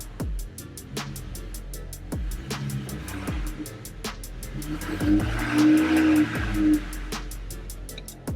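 A car with a ZF HP6 automatic transmission idles in reverse, its engine giving a steady low hum with regular ticking and a slight swell in the middle.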